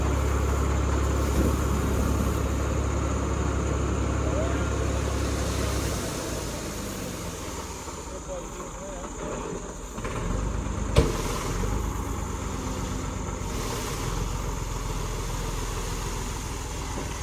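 A tractor hauling a soil-delivery trolley runs with a steady engine rumble, louder for the first few seconds and then settling lower, with a single sharp knock partway through.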